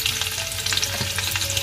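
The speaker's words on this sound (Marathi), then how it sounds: "इकडे तेल टाकून ठेवलंय कढईमध्ये, त्याच्यामध्ये सर्वात पहिले राई टाकून घेतोय" Mustard seeds and garlic cloves sizzle and crackle in hot oil in a kadhai, a steady close frying hiss with scattered pops and no voices.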